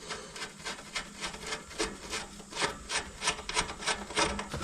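A part on a truck suspension is unscrewed by hand, giving a close, rhythmic series of scraping, ratcheting rasps that speed up slightly toward the end, with no talk.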